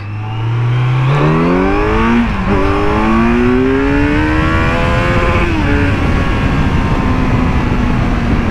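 A Kawasaki Z900 motorcycle engine revs up and accelerates loudly and close by, its pitch climbing through rising sweeps with brief dips at the gear changes, then settling into a sustained high drone.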